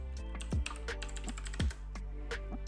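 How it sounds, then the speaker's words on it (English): A computer keyboard is typed on in a few quick, sparse keystrokes over a steady electrical hum, with no talking. "Now let's type here Flutter"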